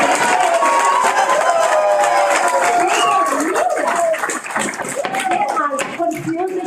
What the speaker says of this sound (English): If you're going to applaud, please wait until the end for the speaker, please.